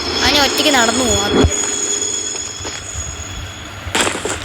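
Train rolling on rails in the Choo Choo Charles video game, with sustained wheel squeal and rumble throughout, loud and close, while a voice talks over the first part.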